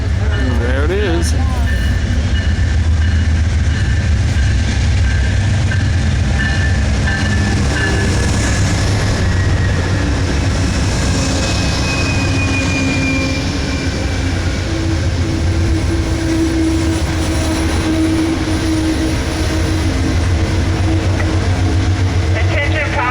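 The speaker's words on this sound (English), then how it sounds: "this is your Southwest Chief, the long distance train going all the way to Chicago" Amtrak Southwest Chief long-distance train arriving at a station during a festival trip, a loud continuous rumble of rolling wheels and engine with occasional squeals throughout, with voices and a public-address announcement over it.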